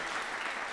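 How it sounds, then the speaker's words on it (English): An audience applauds at a jazz concert, a dense, even wash of clapping from many hands that holds steady throughout the brief moment. "You can clap."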